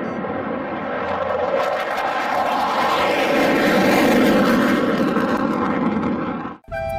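A loud, steady jet-engine roar from a toy fighter jet, broadband and sustained for several seconds before cutting off abruptly near the end.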